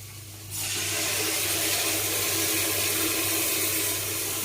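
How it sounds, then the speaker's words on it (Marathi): Water starts running with a sudden rush and keeps splashing steadily, like rinsing lentils in a container under a flowing tap. "3 तांब्याने डाळ आपण धुवून घेऊया। पाणी स्वच्छ दिसते।"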